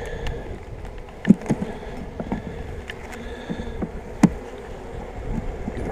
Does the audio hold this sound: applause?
no